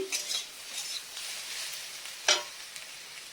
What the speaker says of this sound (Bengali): আলু ভাজাগুলো কেমন লাল লাল হয়ে গেছে গ্যাসটা একটু জোরে দিয়ে দিয়েছি